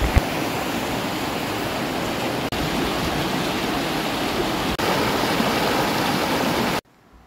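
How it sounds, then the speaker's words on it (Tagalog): Loud rushing river water along a jungle trek to Ditumabo Falls, a dense, steady close roar with no voices that runs continuously and then cuts off abruptly at the end. "Ang lakas ng lagaslas ng tubig ilog dito."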